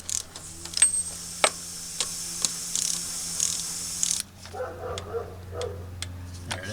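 A ratchet clicks in short bursts as it snugs valve cover bolts on a 2001 Toyota Camry four-cylinder, with close, crisp pawl ticks and brief pauses between strokes.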